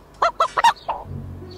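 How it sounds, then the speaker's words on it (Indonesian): A chicken clucks nearby in a quick run of four loud, clipped calls, then one drawn-out cluck, heard alone in a quiet spot. "Ayam?"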